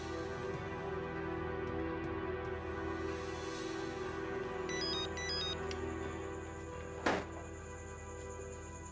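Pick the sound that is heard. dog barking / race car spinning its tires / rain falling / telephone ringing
telephone ringing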